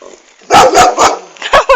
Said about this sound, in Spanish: Creo que esos son los perros a los que se refería.